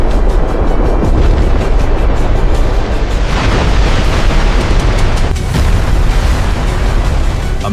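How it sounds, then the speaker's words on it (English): Mount St. Helens' lateral volcanic blast roars as a massive, continuous explosive rumble, loud and dense throughout, with crackling bursts layered over a deep booming wall of sound. "A massive lateral explosion tore across the landscape at incredible speed."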